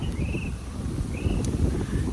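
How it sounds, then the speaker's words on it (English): Strong outdoor wind buffets the microphone with a steady low roar and rumble throughout, loud and close, with no speech. "Sorry, it's windy out here, guys."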